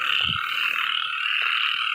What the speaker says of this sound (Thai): กบร้องแถวนี้ไม่รู้ไปไหน